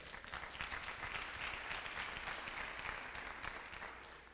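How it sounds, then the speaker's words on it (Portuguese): A church audience gives a round of applause welcoming a man named Paulo to the front, a soft, distant patter of many hands that swells slightly and then fades. "vamos receber o Paulo aqui com uma salva de palmas aqui, ó"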